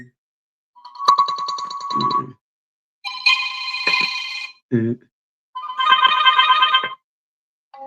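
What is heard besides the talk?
phone text tone options being previewed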